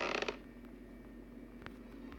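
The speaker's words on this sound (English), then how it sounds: "Why is this floor so squeaky?" Squeaky floorboard creaking in a stealth horror video game with a grandma chaser: a short, loud creak at the start, then a faint low hum with scattered soft clicks.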